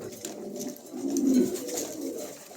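Black Pomeranian pigeons cooing close by, a low throaty rolling coo that swells and fades over a couple of seconds.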